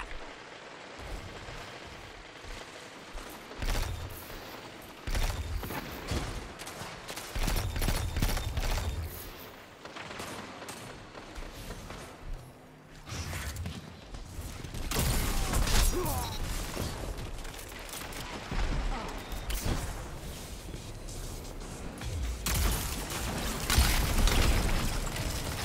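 Video game gunfire from an Outbreak Perfected against a hand cannon: bursts of rapid shots, heavy booms and impacts come in uneven clusters that build louder toward the end, with faint game sounds between them.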